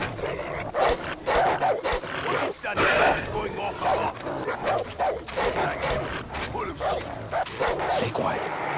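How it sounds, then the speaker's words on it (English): Dogs bark and yip repeatedly in the video game Far Cry 3, with loud, close, overlapping barks and snarls continuing throughout. "Dogs."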